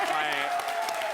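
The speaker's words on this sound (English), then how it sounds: "can we just get a huge round of applause for the Gears?" Conference audience applauding at a big gaming show, a dense wash of clapping filling the hall for the full stretch with a host's voice carrying over it.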